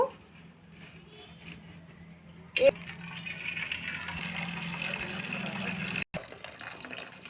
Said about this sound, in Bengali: সহজে মাড়টা গড়াতে পারছি। মাড় গড়ানো হয়ে গেল